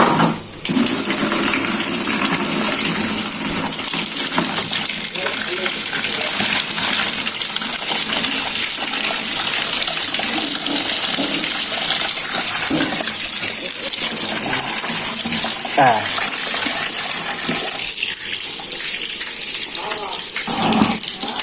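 Hot water poured over a freshly caught fish, a steady continuous splashing gush that runs loud and close throughout, with voices talking over it.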